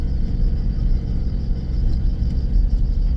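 A car engine driving in third gear on a scenic road, heard as a steady, loud low rumble with constant road noise and no clear revving changes, close and continuous throughout.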